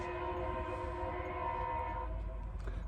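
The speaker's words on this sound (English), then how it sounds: "lots of trains." Trains rumbling past with a sustained, loud multi-tone train horn blaring throughout, close by over a low rolling rail noise.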